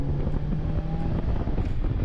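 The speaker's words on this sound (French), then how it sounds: "les bruits d'air et le sifflement de la transmission à courroie ne facilitent pas le dialogue" Steady wind rush and a thin belt-drive whine fill the cabin of a Polaris Slingshot three-wheeler cruising at about 90 km/h, a continuous loud roar with no talk.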